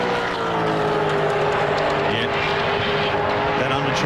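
Racing V8 Supercar at the 1997 Sandown 500 roars continuously at high speed, with a steady engine drone and a rattling, buffeting flutter from a loose front undertray flapping beneath the car.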